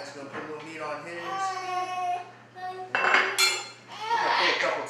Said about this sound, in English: little man's getting fussy in the background